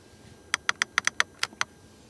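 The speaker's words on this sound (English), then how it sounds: "Climate control is still classic, also normally reachable with a nice clicking sound." Switches on the climate control panel of a 2020 Mercedes CLA 250 Coupé click in a quick, irregular series of about nine crisp, light clicks, close and quiet.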